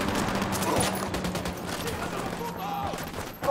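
Sustained gunfire in the tactical shooter game Ghost Recon Wildlands, a dense, continuous fusillade of rapid shots with bursts layered together for several seconds, ending in a louder nearby crack.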